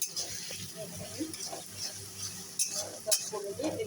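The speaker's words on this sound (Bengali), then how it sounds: "এবারে সব মশলা দিয়ে কষাবো।" Fried potatoes with tomato and spices are sautéed in a pan, a soft sizzle running under scraping stirs and light utensil knocks, with a faint voice in the background.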